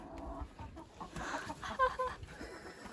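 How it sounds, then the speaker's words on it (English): Hens clucking in short, irregular bursts, fairly close, with a brief higher squawk partway through and a low background rumble. "Our breakfast leftovers, the chickens get to eat."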